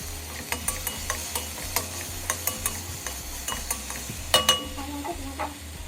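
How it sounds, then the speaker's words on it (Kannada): Food fries in oil in a pan with a steady low sizzle, broken by repeated sharp scrapes and clinks of a utensil stirring against the metal, close and with no talking. "ಸಾಲ್ಟ್ ಹಾಕಿದ್ರೆ ಮತ್ತೆ ಫ್ರೈ ಮಾಡೋಣ"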